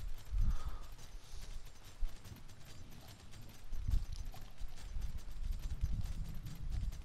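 Horse hooves clip-clop in a steady, muffled gait in the video game Elder Scrolls Online, riding through The Reach. The thudding beat runs throughout at moderate loudness over a soft ambient wash, with no talk.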